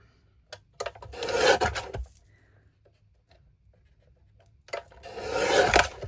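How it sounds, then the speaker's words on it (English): A trimmer cuts along the edges of a song bird stencil in two short rasping bursts separated by quiet, close and fairly soft, with no talking. "So I'll bring my trimmer in."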